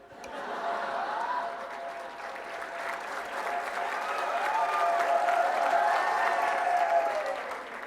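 Sustained applause from an audience at a talk on Swami Vivekananda, steady clapping that swells gradually and stays full for several seconds with a few faint voices underneath.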